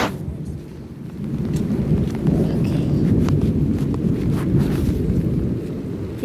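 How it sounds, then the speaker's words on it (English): Heavy storm rain pounds overhead in a loud, unbroken roar, with gusts of wind buffeting the microphone. A voice briefly speaks once. "You can hear rain on top."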